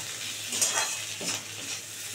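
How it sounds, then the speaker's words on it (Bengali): Tomato and capsicum frying with egg in a pan for egg bhujia, giving a steady soft sizzle with a few stirring scrapes and no talk. "একদম সবার লাস্টে আমি ক্যাপসিকামটা দেবো, যে এটাও সুন্দর করে ভাজা ভাজা করে নেব"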